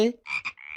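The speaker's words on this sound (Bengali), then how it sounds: "ব্যাঙ।" A frog gives a quick run of short, close croaks: a low opening note followed by two brief raspy calls and a longer buzzing one.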